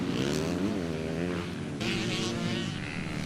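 Several motocross motorcycles race at a league event in Laussou, France, their engines rising and falling in pitch with revving and shifting, loud and fairly close, overlapping into a continuous buzzing roar.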